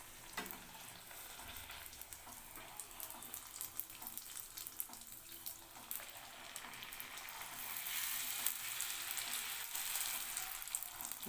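Golgappe puris frying in hot ghee, a steady soft sizzle and bubbling that swells louder toward the end, with faint scraping of a utensil and no talking.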